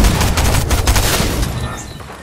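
Rapid bursts of gunfire from the video game Fortnite, loud and dense for about two seconds before tapering off, with no voices over it.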